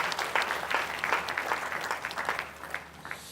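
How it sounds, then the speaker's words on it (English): A conference audience gives a round of applause, many hands clapping together in a dense, fairly loud burst that thins and fades toward the end, with no voices. "One more time, please, a round of applause."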